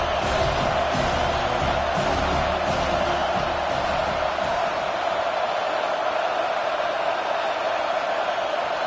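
Dense roaring crowd noise fills a packed college football stadium during a Michigan Wolverines versus Notre Dame game, a steady loud wash of cheering with no pauses throughout.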